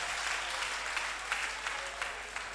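A church congregation applauds the Lord during a night restoration service: dense, continuous clapping from many hands, steady and moderately loud throughout, with faint voices underneath.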